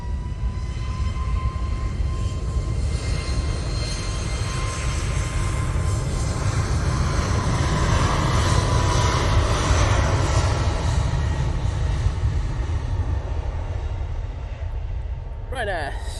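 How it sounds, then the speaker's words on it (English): A Ryanair Boeing 737 MAX 8 jet departs Manchester Airport with a steady, loud engine roar that swells slightly in the middle and fades toward the end. "Ryanair 737 MAX 8 going back to Cork now."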